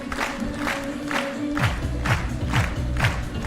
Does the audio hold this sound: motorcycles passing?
no